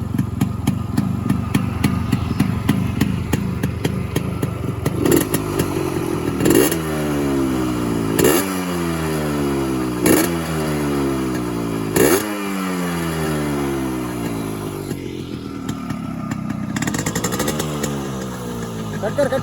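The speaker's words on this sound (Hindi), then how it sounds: "तो गाइज ये है हमारी RX 100 का साउंड।" A tuned Yamaha RX100 two-stroke motorcycle engine runs up close, idling with a steady beat and blipped through several sharp revs that rise and fall; brief talk can be heard alongside it.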